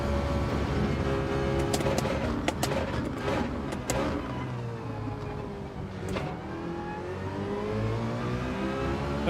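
Citroen race car engine in Gran Turismo 7 during a daily online race, a steady droning engine note with shifting revs and a few sharp transients, continuous and fairly loud throughout.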